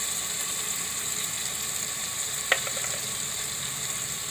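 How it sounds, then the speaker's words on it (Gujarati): Onions, tomatoes and potatoes fry in oil with a steady, moderate sizzle, and a single brief clink of a utensil cuts in partway through; nobody speaks. "2 મિનિટ એમાં તેલમાં સડી જાય ડુંગળી ને ટમેટા ને બટેટા ને બધું."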